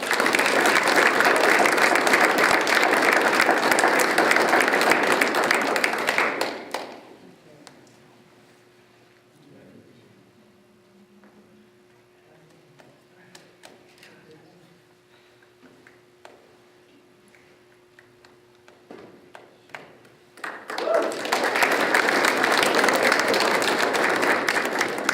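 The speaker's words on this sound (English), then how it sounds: "How about a big round of applause for the family?" Applause for a family at a Boy Scout bridging ceremony: a loud burst of clapping, a long quiet stretch with faint room noise and small sounds, then a second strong round of clapping at the end.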